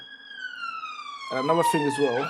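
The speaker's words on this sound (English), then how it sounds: "my apologies for the sirens that you're going to be hearing in the background" A wailing emergency siren glides downward in pitch, fairly close, while someone talks over it.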